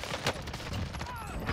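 PPSh-41 submachine gun firing in Warzone, a dense close burst of rapid shots with a sharp crack early on, layered with game noise and a faint voice.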